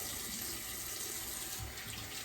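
Tap water runs steadily into a sink for a cool rinse after shaving, a continuous close splashing hiss with no pauses.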